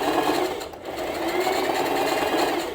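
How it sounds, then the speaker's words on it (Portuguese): A domestic sewing machine stitches a trouser pocket seam on an elastic-waist pair of trousers, running in a steady continuous whir close up, loud and unbroken apart from a brief dip near the start. "desça o calcador e finalize a costura"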